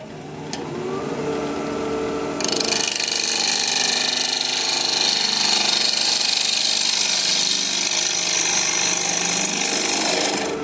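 A woodturning lathe cutter bites into a spinning rhododendron root bowl blank, making a loud, continuous harsh chatter that starts softer and then jumps to a steady, dense grinding roar for several seconds, close up with no talk.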